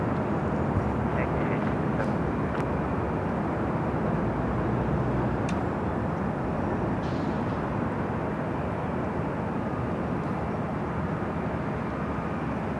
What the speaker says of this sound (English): Asiana now rocket and rolling down to 24 left